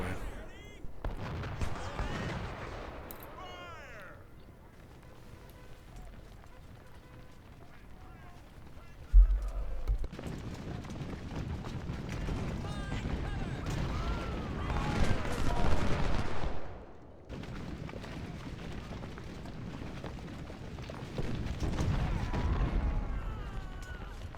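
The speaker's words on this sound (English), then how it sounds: "now he's taking volley after volley as he tries to run away" Musket volleys and artillery crash across a Civil War battlefield in Ultimate General: Civil War, bursts of massed gunfire in waves with quieter lulls between, while a voice talks over parts of it.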